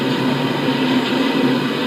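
A TGV high-speed train roars past close by, a loud, dense rumbling rush with a faint steady tonal whine, constant throughout the short stretch.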